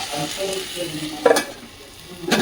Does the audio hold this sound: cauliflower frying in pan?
yes